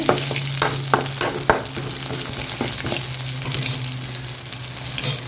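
Onion, tamarind, toor dal and chana dal frying in oil for coriander chutney, a steady hiss of sizzling with repeated sharp clinks and scrapes of a spoon stirring the pan.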